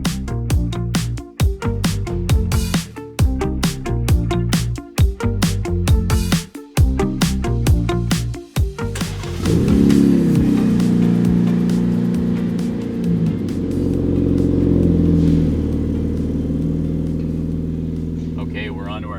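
Ram 1500 twin turbo with a test exhaust, its engine revved in choppy blips and then held in a sustained roaring rev, loud and close.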